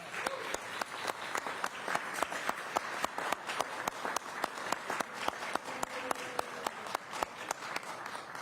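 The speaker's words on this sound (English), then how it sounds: "And again, another round of applause for Lauren at Gaylord College." A faint, distant audience at a Route 66 centennial kickoff event in Oklahoma applauds steadily, with sharp individual claps standing out through the whole stretch.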